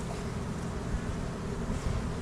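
Honey bees swarm and buzz steadily at an open hive in an almond orchard during pollination, a dense, continuous close-up drone with no voices.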